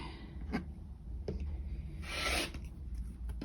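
Scissors or a rotary cutter trimming a piece of quilt fabric, a few brief close rasping cuts with soft rubbing between them, alone and fairly quiet.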